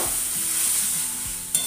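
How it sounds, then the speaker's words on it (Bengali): Water hits a frying spice masala that has released its oil, giving a loud, even sizzle with soft stirring underneath and one sharp knock near the end. "এবারে আমি জলটা দিয়ে দেবো,"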